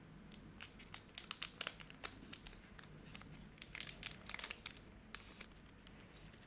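Scissors cut open the foil wrapper of a Riftbound trading card pack up close, giving a run of crisp crinkles and small snips with no talking.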